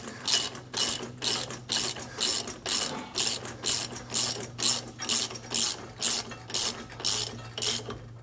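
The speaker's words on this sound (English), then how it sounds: "We just need to snug up and then torque our mounting points to the specs that we can find in our installation manual." A hand ratchet tightens steering stabilizer mounting bolts on a 2019 Fleetwood motorhome, giving a steady run of about fourteen close, loud rapid clicking bursts in even rhythm with no talk.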